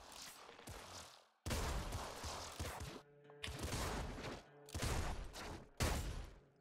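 Bolt-firing weapon in the game Nuclear Throne, Ultra Mod, unleashing loud bursts of rapid gunfire in several blocks, separated by brief silent gaps, with no talking.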